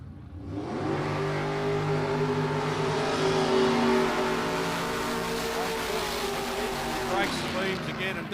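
A red two-door Chevrolet Nova race car runs its engine at a qualifying event, giving a loud sustained roar that holds steady for several seconds before easing off slightly.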